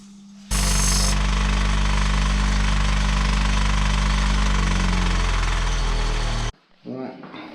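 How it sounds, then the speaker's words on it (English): Bench grinder rounding off the sharp edge of an aluminium gate part, a loud steady grinding whine that runs for about six seconds and then stops abruptly, followed by faint background noise. "Just grind the sharp edge off here on the grinder"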